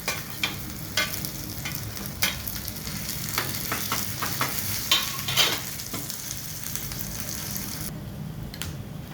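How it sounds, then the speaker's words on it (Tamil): Green chilli, dried chilli, ginger and curry leaves sauté in hot oil in a pan, a soft steady sizzle broken by several sharp crackles and the scrape of stirring, with no voices. "பச்சை மிளகா, இஞ்சி கொஞ்சம் வதக்கிக்கலாம்."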